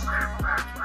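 Ducks in a park pond, a mix of local and foreign breeds, let out a couple of short nasal quacks nearby over a low background hum.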